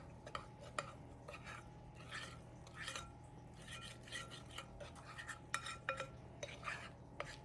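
Cake batter with flour being mixed in a bowl for an apple crumb cake, a utensil scraping and clinking softly against the bowl in an irregular rhythm, quiet and close with no voices.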